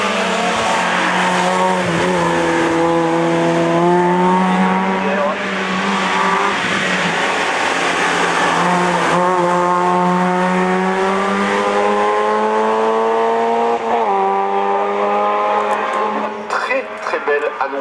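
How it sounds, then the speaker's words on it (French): Hill climb race car number 215 at the Turckheim course revs hard and launches from the start, engine climbing through repeated gear changes, loud and sustained with an announcer talking over it. "La voiture numéro 215 pilotée par Régis Gira est au départ."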